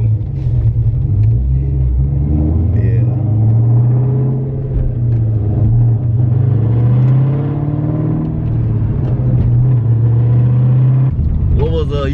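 A Ford Mustang Cobra being driven around on the road, its engine a steady low rumble with mild revving throughout, under ongoing conversation from people inside the car.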